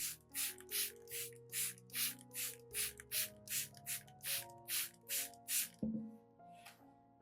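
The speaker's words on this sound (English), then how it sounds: "Here, I mist spray the snake plant." Hand mist sprayer spritzing a garlic and vitamin B1 solution onto a snake plant, about a dozen crisp evenly spaced hissing puffs in a steady rhythm, close and clear over soft background music.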